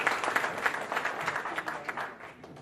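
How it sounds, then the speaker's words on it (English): An audience at a travel-trade networking session and press conference applauds, a steady patter of many hands clapping that fades out over a few seconds. "I think we need to have an applause for this Indian carrier."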